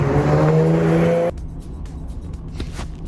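A 1985 Ferrari Testarossa Monospecchio drives past with a loud engine roar and a steady harmonic drone that cuts off abruptly after about a second, leaving faint road and ambient noise.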